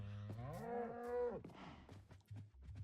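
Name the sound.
cows in Minecraft video game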